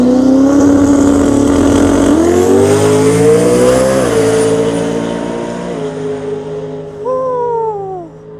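A supercharged Audi drag car launches at Maryland International Raceway, its engine roaring loud and close, climbing in pitch through rapid gear changes before fading, with a brief tire chirp near the end.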